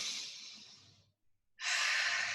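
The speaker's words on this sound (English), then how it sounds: "And take a deep breath." A deep breath during a stretching fitness class: a long, close airy inhale fading out, a brief silent pause, then a strong audible exhale.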